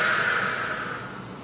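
A single long, airy exhale released after a held breath during a sophrology relaxation exercise, close and steady, fading slightly toward the end with no talk.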